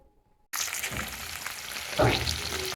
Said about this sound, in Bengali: এই রকম দেশি মাছ টাটকা টাটকা যখন কড়ার মধ্যে ভাজা হয়